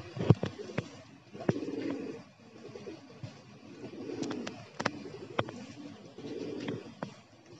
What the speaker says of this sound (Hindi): देखिए दोस्तों सारे कबूतर आते हुए